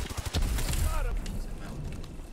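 Rapid bursts of gunfire and explosions from the video game Call of Duty: Advanced Warfare crackle loudly and close, with a player's voice talking over them.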